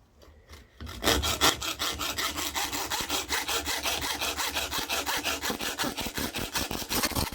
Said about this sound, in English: These coping saws work perfectly fine on aluminium as long as you're careful.